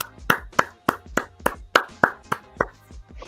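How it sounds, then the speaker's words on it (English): A single person claps steadily about a dozen times in appreciation, close and crisp, each clap sharp and evenly spaced in a quiet room. "That is a genuine hand clap of appreciation, man."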